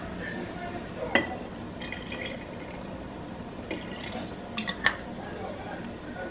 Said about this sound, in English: I just filled up the rest of it with water